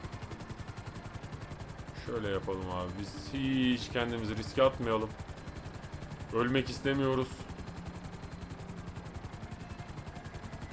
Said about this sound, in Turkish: Helikopter bak.